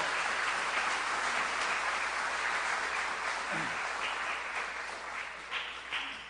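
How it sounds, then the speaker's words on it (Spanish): A church congregation breaks into loud, sustained applause for the Lord, dense continuous clapping filling the room from start to finish, with a faint voice briefly audible partway through. "Dale un fuerte aplauso al Señor."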